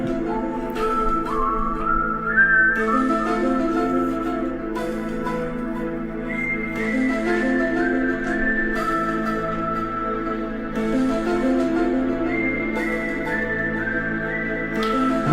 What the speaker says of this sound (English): Whistle along if you know it.